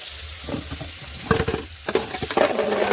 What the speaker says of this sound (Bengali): কড়াইয়ের মধ্যে মাছ দেওয়া হচ্ছে এখন।